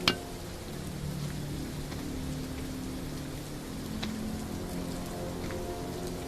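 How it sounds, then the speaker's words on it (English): Steady rain falls in The Walking Dead Saints and Sinners video game, a constant hiss of drops hitting surfaces, with a faint clink near the start and a few soft taps scattered through. "I don't like the fact it's raining."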